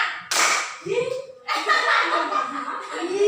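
Bursts of rhythmic clapping from a group of children alternate with voices and light laughter, the claps loose and short rather than a steady beat.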